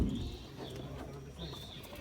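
Tumbler pigeons in a coop on a hot day give soft, low cooing calls, faint and fairly close against a quiet background.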